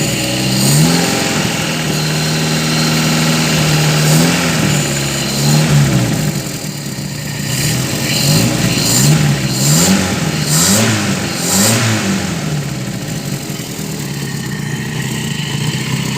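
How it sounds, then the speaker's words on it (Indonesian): Engine of a restored 1980 Toyota Kijang KF-10 pick-up with an exhaust in good condition, idling close and loud and rising in repeated revs, steady and unbroken throughout with no voices. "Suara mesinnya masih khas Kijang, kayak Kijang super biasa ya."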